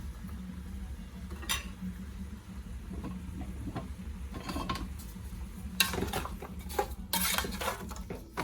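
Seasoned meat is stirred in a cooking pot, with a spoon scraping and clinking against the pot's sides in irregular bursts, close but fairly quiet, with no talk.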